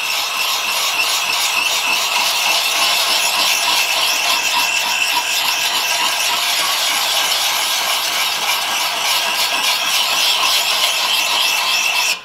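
Steel blade sharpened by hand on the coarse 400-grit side of a whetstone, a continuous close scraping hiss with rapid back-and-forth strokes, sustained for about twelve seconds with no talk.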